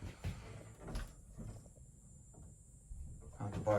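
An antique wooden door fitted with a custom door jamb kit is pushed shut into its frame, giving a few soft knocks and thuds, fairly quiet, against a hushed room.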